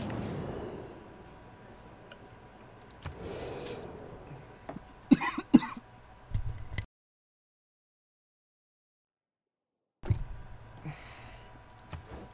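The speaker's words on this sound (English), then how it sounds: "I just had a bit of a cough there" A single person coughs a few times, close and fairly loud, alongside light clicking from a computer keyboard, followed by a few seconds of silence and then more faint desk noise.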